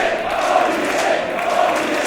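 A wrestling crowd in Newcastle cheers and roars in a steady, loud wash of voices filling the arena, with no single voice standing out.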